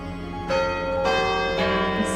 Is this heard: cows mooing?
no